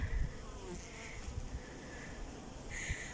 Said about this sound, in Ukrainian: Оси намагаються потрапити у вулик